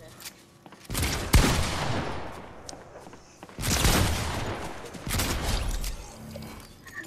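Gunfire from a weapon in the video game Fortnite: loud, sustained bursts of rapid shots in two long stretches with a short lull between, close and dense, with voices underneath.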